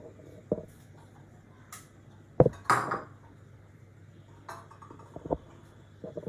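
Thinly sliced mushrooms are tipped into a pan and mixed, heard as a few sharp utensil clinks and scrapes against the metal between quiet stretches, close by and without talk.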